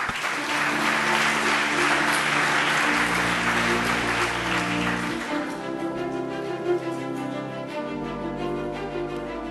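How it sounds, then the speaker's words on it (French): Conference audience at a spectrum and innovation event applauding: a dense, steady wash of clapping fills the first few seconds, then thins out as music continues underneath. "Peter Stuckmann, avec quelques applaudissements."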